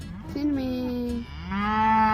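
Cows going out to pasture moo loudly nearby: one long low moo followed by another rising call, close and clear.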